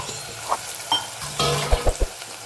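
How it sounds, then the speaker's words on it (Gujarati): Onions and potatoes dropped into hot oil with mustard seeds and asafoetida give a soft, steady sizzle, broken by a few sharp clinks and scrapes of stirring in the pan, close by and without talk. "ડુંગળીને બટાકા એડ કરી દઈશું."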